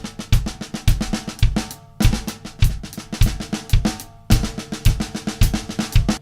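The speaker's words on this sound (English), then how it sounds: "I threw the kick drum in to make a beat that sounds like this" A drum beat with deep kick drum thumps under quick steady snare strokes, repeating in short phrases separated by brief pauses.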